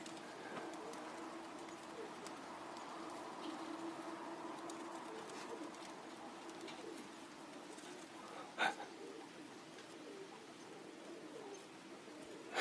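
A dove and Modoc Zipper pigeons cooing outdoors around a flying kit, soft low repeated coos under a quiet ambient hiss, with a brief sharp sound partway through.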